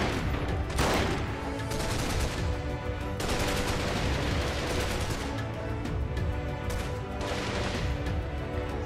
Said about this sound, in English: Thought my guns stopped shooting for a second now